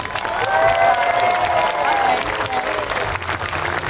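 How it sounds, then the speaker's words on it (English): Crowd applause and cheering at Swanage Carnival for a Red Devils display, a dense, steady wash of clapping from a large outdoor audience lasting throughout, with a sustained tonal hum running beneath it. "let's just have a round of applause for the guy who knows what he's talking about"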